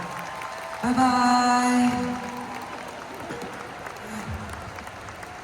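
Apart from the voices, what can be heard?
audience applause for children at a live concert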